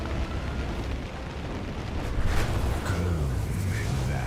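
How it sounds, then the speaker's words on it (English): A bomb explodes during a raid in a video game, a deep rumbling blast that swells briefly midway over a dense roar of game noise, with a voice talking over it. "Here's bomb."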